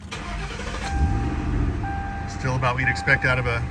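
A 2004 Mercury Marauder with a 4.6-liter V8 starts up, a short crank and low, fairly mild engine rumble settling to idle, with someone talking over it nearby.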